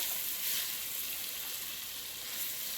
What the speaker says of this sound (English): when it starts to sizzle, just start giving it a stir